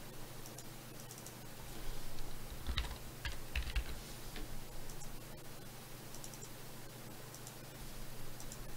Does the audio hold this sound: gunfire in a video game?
no